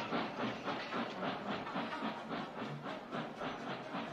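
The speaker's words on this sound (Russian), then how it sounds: "Поезд тронулся" A train rolls along with rhythmic clattering and hissing, a steady chugging pulse heard at moderate distance.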